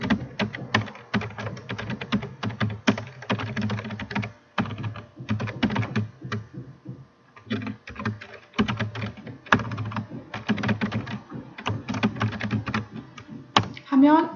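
Fingers type data into an Excel spreadsheet on a computer keyboard, with rapid clattering runs of keystrokes broken by short pauses, close and clear.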